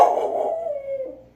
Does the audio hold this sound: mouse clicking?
no